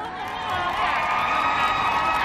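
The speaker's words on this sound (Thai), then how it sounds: "ปรบมือต้อนรับแรนด์การบัณฑิตนะครับ" A crowd at a luk thung country music show in Bangkok clapping and cheering in welcome, a dense, steady roar of applause and shouts that swells and holds throughout.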